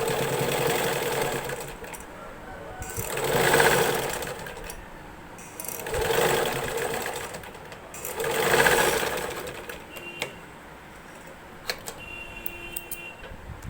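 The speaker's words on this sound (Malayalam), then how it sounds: "ഇതിൻ്റെ അറ്റത്തെ കൂടി സ്റ്റിച്ച് ചെയ്തെടുത്താൽ മതി കേട്ടോ" A sewing machine stitches nightie fabric into a crop top in several bursts of rapid, whirring needle action, each rising and easing off, with quiet pauses and small clicks between runs.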